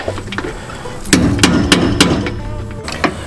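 A hammer taps a socket to seat a bolt on a MORryde CRE3000 trailer suspension: a few sharp metallic strikes at uneven intervals, close and loud, with some rattling in between and no talking.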